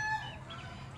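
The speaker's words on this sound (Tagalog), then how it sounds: "Mabait itong white kelso natin na inahin." A white kelso hen gives a short, soft clucking call, brief and faint over low background rumble.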